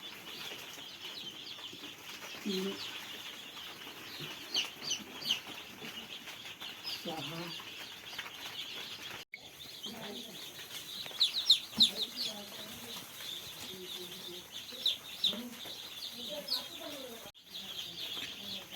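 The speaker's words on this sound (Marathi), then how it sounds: "पिल्लं झालेत फिरत आहेत" Native desi chicks and hens in a poultry shed chirp and cluck steadily, with occasional wing flaps close by and a constant high peeping chorus throughout.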